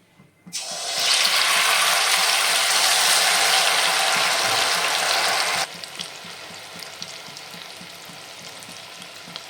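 Semolina rasbora balls dropped into hot oil bring on a loud, dense sizzle that swells within a second, holds steady for several seconds, then drops abruptly to a softer, continuing crackle.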